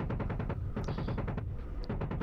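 Rapid bursts of gunfire during helicopter combat in the DCS Apache flight simulator, loud, dense and continuous, with staccato shots repeating throughout and a couple of brief high electronic tones cutting in.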